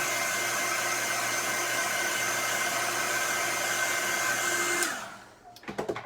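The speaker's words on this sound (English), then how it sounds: "I'm going to hit this with a hairdryer just real quick." A hair dryer blows steadily at close range with a constant whooshing hum for about five seconds, then switches off and winds down, followed by a few light handling taps.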